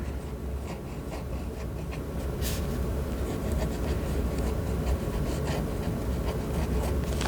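A fountain pen scratches steadily across smooth dot grid paper in a close, continuous stroke sound, with small clicks of the nib lifting and landing between letters and no talking.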